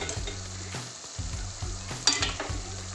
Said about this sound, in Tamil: கரண்டி வச்சு ஒரு கொஞ்சம் கிண்டினோம்னா நல்லா மையாயிரும்